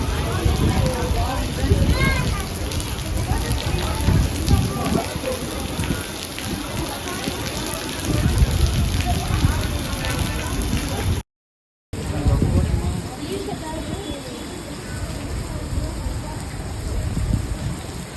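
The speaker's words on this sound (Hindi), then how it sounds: "इतनी तेज़ बारिश हो रही थी जिसकी कोई हद नहीं" Heavy rain pours outside Centaurus Mall in Rawalpindi, a dense, steady hiss of drops hammering surfaces, loud and close throughout, briefly cut off partway, with no one speaking.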